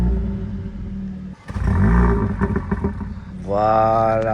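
A yellow Mercedes CLA 45 AMG Night Edition starts up with a sharp burst and deep rumbling exhaust that settles into a throaty idle, then rises in pitch as it revs, close by with a brief spoken word.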